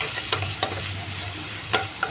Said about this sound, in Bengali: এবার আমি রসুনটাকে একটু ভেজে নিচ্ছি।